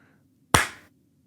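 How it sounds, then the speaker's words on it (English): One sharp hand clap in a quiet room, sudden and close, with a short tail fading away and silence before and after. "I'm gonna do a clap."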